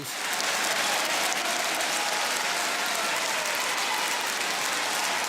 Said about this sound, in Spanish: Gritos y aplausos de un lado y otro